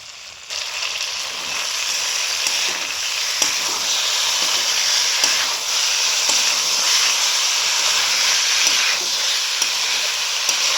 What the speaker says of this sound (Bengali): আলু ফুলকপিটা একদম সিদ্ধ হয়ে গেছে আমি ছাঁকা তেলে ভেজে নিয়েছি বলে তাও একবার মশলার সাথে ভালো করে কষিয়ে নিতে হয়